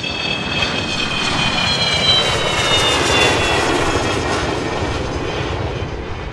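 A loud, steady roar of an airplane engine drones on without pause, broad and rumbling, with no talking.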